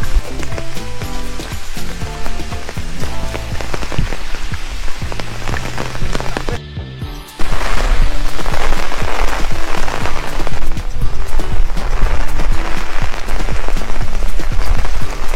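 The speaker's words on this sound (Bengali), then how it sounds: "হালকা বৃষ্টি পড়ছে।" Monsoon rain falls in the hill station of Matheran, a dense steady hiss of drops on surfaces that briefly dips, then returns heavier and louder for the rest of the stretch.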